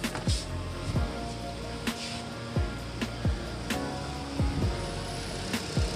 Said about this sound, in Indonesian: Oke, sekarang untuk suara mesinnya.